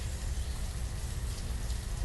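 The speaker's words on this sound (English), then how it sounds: "Why does it always rain?" Rain falls in the video game Banished, a constant dense patter with a rumbling low wash, steady and close throughout with no speech.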